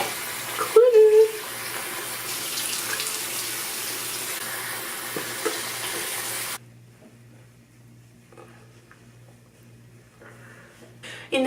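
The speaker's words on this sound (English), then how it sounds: "So you just grab water and clean it." Running tap water for washing the face at a bathroom sink, a steady hissing flow for about six seconds with a brief splash near the start, then stopping abruptly to near quiet.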